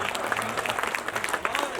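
Lively audience clapping at a Hindi comedy poetry recital, a brisk, steady patter of many hands at moderate distance, with faint crowd murmur beneath.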